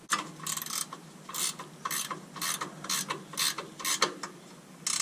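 Ratchet wrench tightening a bolt during a Bilstein 5100 and Old Man Emu lift kit install on a fourth-generation Toyota 4Runner, with repeated close bursts of clicking strokes separated by short pauses.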